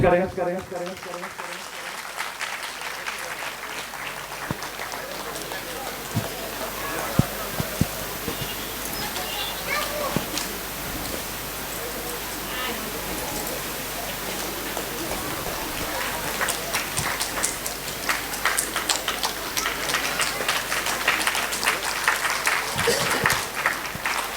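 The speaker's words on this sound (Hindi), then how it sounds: "और इनका तालियों से स्वागत करें।" An assembly at a Sri Ram Bhakt Sena gathering welcomes an honored guest with a long, crackling wash of applause, which rises toward the end while a voice speaks over it.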